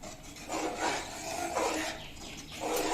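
A spoon scrapes and stirs semolina and milk in a pan, soft rhythmic rasping strokes repeating every half second or so, close and fairly quiet.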